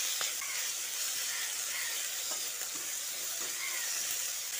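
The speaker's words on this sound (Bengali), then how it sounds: "ফোড়নটা কয়েক সেকেন্ড ভেজে নেওয়ার পর এর মধ্যে একটা মাঝারি সাইজের টমেটো কুচিয়ে দিয়ে দিচ্ছি" Chopped tomato frying with garlic paste in a pan gives a steady, close sizzle and hiss that runs through the whole stretch, with faint stirring scrapes and no voices.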